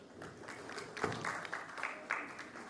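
Faint, distant applause from an audience at a storytelling competition grand finale, a brief patter of clapping with a few louder claps rising and falling.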